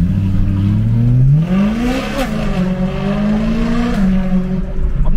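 A rear-wheel-drive V8 car engine revs loudly and close up, its pitch climbing, easing, then holding steady through several rises and falls without anyone talking.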